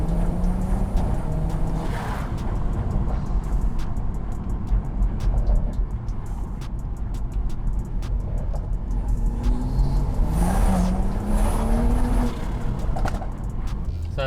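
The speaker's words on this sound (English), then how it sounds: "this isn't a normal M140i, this is tuned stage 2 plus, and it's seriously fast" A tuned stage 2+ BMW M140i in Sport Plus mode, engine droning loudly and continuously from inside the cabin, its pitch climbing and falling through gear changes.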